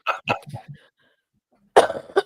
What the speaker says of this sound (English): I'm going to cough more with it